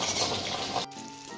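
Chili chicken pieces fry in hot oil in a large wok, giving a loud, steady sizzle that cuts out briefly near the end before a quieter sizzle returns.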